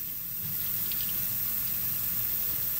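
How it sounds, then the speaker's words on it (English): Hot water runs from a tap into a plastic bottle, a steady continuous rush and gurgle of filling that holds at an even level throughout, close by, with no voices. "So I'm filling it up with really hot water."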